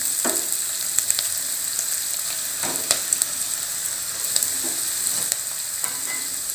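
Vegetables with beans stir-fried over a high flame for egg fried rice, a steady close sizzle broken by scattered clacks and scrapes of a spatula in the pan, with no talking.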